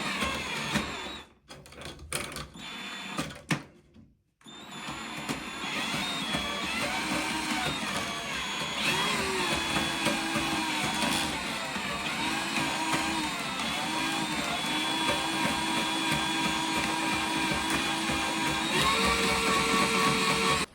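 A WORKPRO drain auger's motor whirs steadily with a constant mechanical hum after a few sharp clicks and handling noises, its pitch shifting slightly as the cable spins.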